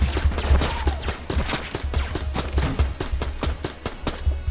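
Rapid gunfire from the video game Enter the Gungeon, a dense stream of repeated shots firing steadily throughout, loud and close with no talk over it.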